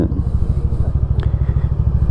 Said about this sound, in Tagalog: Painit na ng makina.